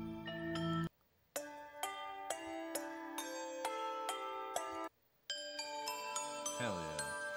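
Bright, ringing bell tones from a sampled Bell Swarm synth preset in the Splice Instrument, struck in quick succession, layered and shimmering with long sustains, with two brief silent gaps between phrases.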